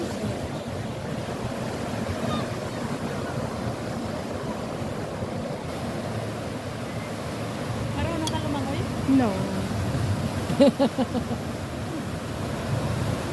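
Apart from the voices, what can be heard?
ocean waves at beach in Hong Kong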